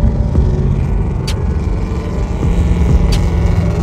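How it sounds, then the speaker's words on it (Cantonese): Modified cars pass on a Japanese highway on the way to Tokyo, a loud continuous low engine and road rumble with a couple of brief sharper high-pitched bursts, no talk. "見到堆改裝車"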